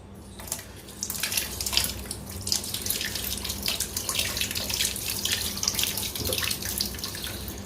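Water splashes and pours unevenly over cloth being washed, with wet sloshing, rubbing and wringing sounds, fairly close and continuous.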